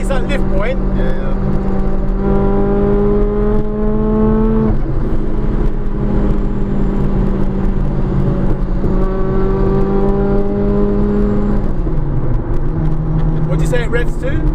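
A supercharged Toyota Celica 190 with a VVTL-i engine revs hard and loud, rising in pitch in two long sweeps toward high rpm before dropping back. The engine drones continuously, with people talking over it.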